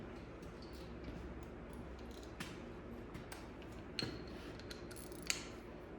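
Quick metallic clicks of a ratchet being tightened during an oil change on a 2005 Harley, sparse ticks over a low background hum, with a couple of sharper louder clicks near the end.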